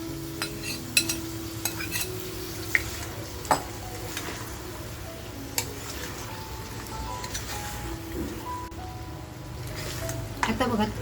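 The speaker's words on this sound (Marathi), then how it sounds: "तर आपण हे जे मटण काढून ठेवले ते असं मस्त याच्यामध्ये फ्राय करून घेऊया." Mutton fries in a pan of spicy roasted masala over a slow gas flame, giving a steady sizzle with scraping stirs and occasional clinks of a utensil against the pan.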